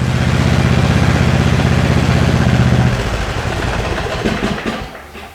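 A riding lawn mower engine runs during yearly servicing, a loud steady throbbing idle for about three seconds before it is cut and rattles down to quiet.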